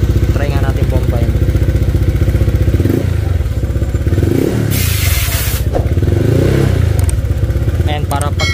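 A motorcycle engine idles with a fast, steady pulse and is revved in several rising swells, fitted with a Koso RPM meter; clatter and a voice are heard briefly around the revs.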